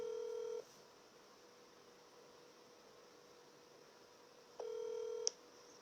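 A telephone dials out a call: a short electronic keypad tone, a long quiet gap, then another brief tone burst over faint steady hiss.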